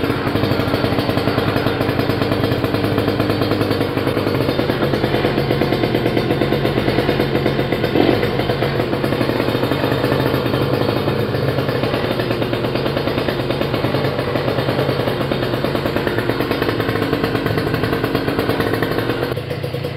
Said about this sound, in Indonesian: Coba kita dengerin halusnya mesinnya.